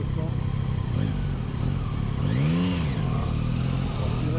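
A Yamaha Tracer 9 GT motorcycle's engine drones steadily and close throughout while ridden, with a spoken voice talking over it.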